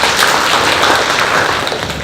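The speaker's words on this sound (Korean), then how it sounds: "큰 박수로 맞으시기 바랍니다." Dense audience applause at a Hanyang University MBA admissions information session, a steady close wash of clapping welcoming a speaker to the stage.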